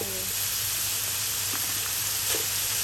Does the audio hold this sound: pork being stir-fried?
yes